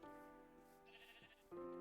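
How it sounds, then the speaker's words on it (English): Sheep bleating in the video game Minecraft, a few wavering, nasal bleats close up, the last one loudest, with no talk over them. "There's a sheep."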